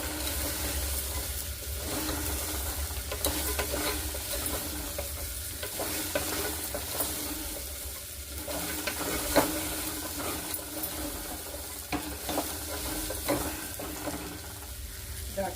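Vegetables including double beans, peas, green beans and carrots are stirred in a hot frying pan for pulao, with a steady sizzle and repeated scraping and stirring scrapes close by, no talk.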